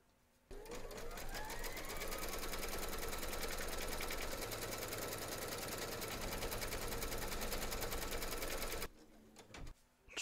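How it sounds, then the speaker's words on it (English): An embroidery machine stitches a securing outline on fabric taped in the hoop, a continuous close whirring drone of rapid needle strokes that runs for several seconds before stopping abruptly. "Pop your hoop into your machine and stitch round number 3 to secure it"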